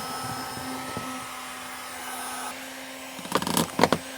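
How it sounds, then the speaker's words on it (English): A heat gun blows a steady, whirring hot-air hiss while softening the taillights on a Z32 Nissan 300ZX, followed near the end by a few sharp plastic clicks and handling noises. "this might be the part where I need to break out the heat gun"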